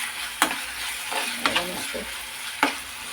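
Chillies frying in a pan of oil with salt and sugar while making pizza, a steady soft sizzle broken by a few sharp stirring clinks and scrapes, close and without talk.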